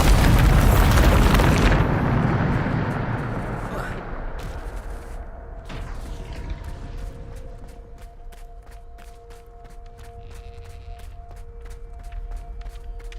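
A Bombarda spell in Hogwarts Legacy bursts in a loud, close explosion that roars for about two seconds, then decays into a long rumbling tail with faint crackles and a sustained magical hum.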